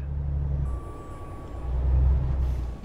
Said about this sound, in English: we get the traffic noise